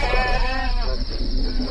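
Sheep in a flock bleat loudly and close, a wavering drawn-out cry followed by rougher noise.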